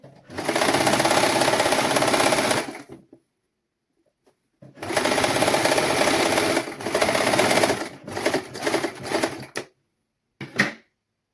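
A sewing machine stitches a child's sun suit in loud, close, fast bursts: one long run, a pause, another long run, then several short stop-start spurts. No one talks.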